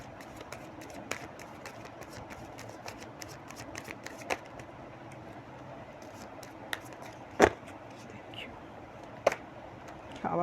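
Playing cards are shuffled and handled quietly at close range, with soft riffles and a few sharper taps and snaps against a hushed background.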